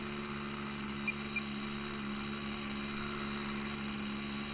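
A small K82 Kadet LT 40 model airplane engine idles steadily a little fast with a low, even buzzing drone, a couple of faint clicks, and no talking.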